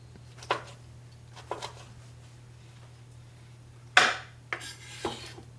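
A knife chops artichokes on a cutting board for a salad dressing, a few scattered sharp knocks and scraping strokes with pauses between them, over a faint steady hum and no talking.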